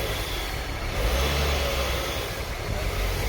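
A Ford Focus ST RS engine idles steadily after starting, a continuous low rumble with slight swells in revs, loud and close, with no talk over it.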